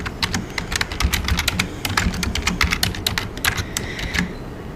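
Rapid, uneven keystrokes on a computer keyboard as a short search query is typed, close and clear, with steady clicks and no voices.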